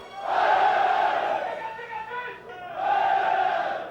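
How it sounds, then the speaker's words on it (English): A huge crowd cheers at the completion of the southern underwater tunnel, as the last tunnel boring machine breaks through; loud swelling roars rise in two waves, dipping briefly between them. "more celebrations as a huge crowd gathers for the completion of the southern tunnel"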